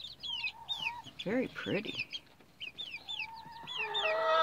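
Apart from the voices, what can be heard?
baby chicken pullets clucking, including a barred rock chick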